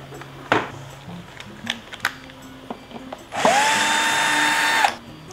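A power screwdriver whirs steadily for about a second and a half while backing screws out of an LED TV under repair, after a few scattered clicks and knocks of handling the set nearby.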